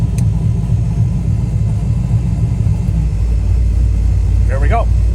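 Deep, steady rumble of a turbocharged Ford Fairmont idling with its exhaust cutout closed, loud and close, with a brief faint chirp near the end.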